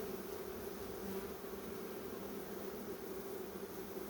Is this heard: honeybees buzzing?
yes